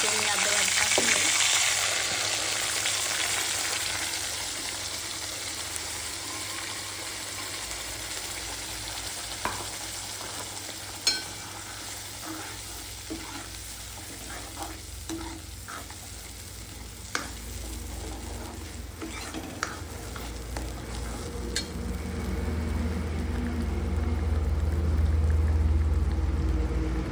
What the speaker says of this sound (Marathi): बघू शकता मस्तपैकी परततोय मसाला.